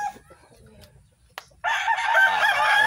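A mestizo fighting rooster gives one loud, close crow that starts after a second and a half of quiet, with faint background noise and a soft click before it.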